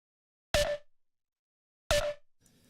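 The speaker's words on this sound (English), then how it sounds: "That's just a standard pitch drop or pitch drop automation that I did in Serum." Two isolated pitch-dropping clap-layer hits synthesized in Serum, each a sharp bright burst sweeping quickly downward and decaying, spaced just over a second apart in silence.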